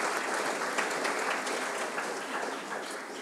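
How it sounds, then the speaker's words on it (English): Steady applause from an audience at an evening talk, dense and even clapping that fills the space and fades slightly toward the end, with no voices over it. "Please give a round of applause."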